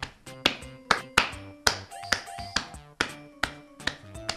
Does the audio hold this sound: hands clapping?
yes